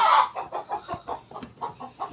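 A hen clucks repeatedly in a steady series of short, close calls at a backyard coop where eggs have been laid.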